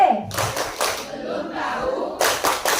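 Primary school class in Indonesia performs the rhythmic 'tepuk PPB' clap chant, bursts of group hand claps in a patterned rhythm, close and sharp, with a pause in the middle and voices faintly underneath.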